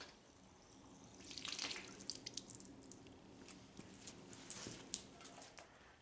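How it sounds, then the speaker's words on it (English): Water running into a Packard engine block during a rebuild, a soft splashing trickle with scattered drips and gurgles that swells midway, close by and without talk. "we'll go ahead and fill our block full of water here."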